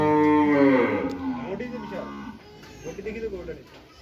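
A bull moos loudly and at length nearby, a deep drawn-out bellow, followed by a second, lower moo; a person talks over part of it.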